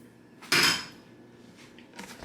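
A small metal skillet clanks once on a kitchen stove before frying Oreos, a sharp close metallic knock that rings briefly and fades, followed by faint handling sounds.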